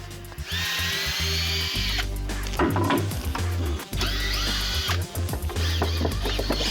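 A power drill unscrews fasteners from the top of a wooden frame's lintel plate during a house repair, whining loudly in two long bursts with clattering handling noise between them.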